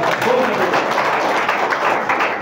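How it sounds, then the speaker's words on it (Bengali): Audience at a health lecture clapping together, a dense continuous burst of applause from a crowd, fairly loud and even throughout. "জোরে একটা হাততালি চাই।"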